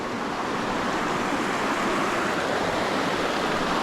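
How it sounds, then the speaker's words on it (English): A waterfall on a backcountry brook trout stream in East Tennessee roars as a steady, dense rush of falling water, close and constant throughout. "That waterfall is so beautiful."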